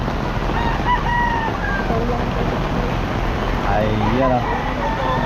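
Chickens and a rooster crow and cluck at a pet market in Bocaue, with repeated crowing calls over steady background noise and a person talking nearby.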